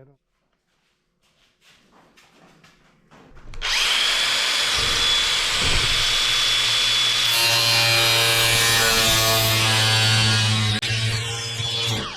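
A power tool cuts out a metal panel on a 1940s SELOIL oil rack being restored. After a quiet start with faint voices, a loud, steady cutting whine and grind runs continuously for the rest of the clip.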